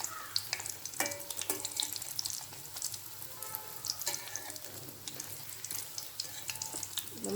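Prawn cutlets fry in hot oil with a quiet, even sizzle and scattered crackles, plus faint clinks and light handling noises nearby, and no one speaking.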